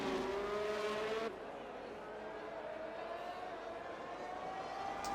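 McLaren race car in a racing video game at Monaco, engine whining loudly at high revs as it rushes past the swimming pool section, then dropping to a lower steady drone, with a commentator talking over it.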